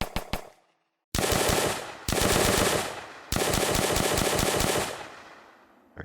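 Rapid gunfire from a pistol, an STG assault rifle and an M1 carbine in a Nazi zombies video game, loud bursts of fast repeated shots in three long volleys after a few quick opening shots.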